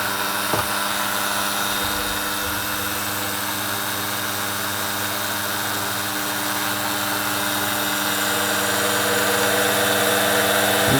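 A Soviet-era Komunaras PS-2a test stand runs steadily at minimum speed, a constant low machine hum with strong tonal drone and broadband mechanical noise that holds level throughout, close and continuous without talk.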